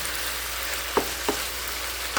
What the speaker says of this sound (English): give it a stir until the onion and the tomatoes are cooked